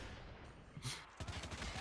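Gunfire from the mobile shooter Call of Duty Mobile during a pro league match crackles in quick bursts, fairly faint and distant within the game mix.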